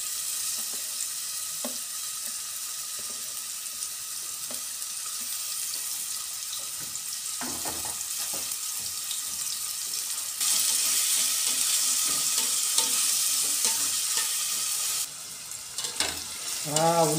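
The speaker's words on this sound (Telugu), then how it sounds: "ఉల్లిపాయలు ఎర్రగా వచ్చేదాకా వేసుకోవాలి." Onions frying in oil for chicken curry give a steady sizzle with scraping stir strokes throughout, growing louder and brighter partway through, with a few clanks near the end.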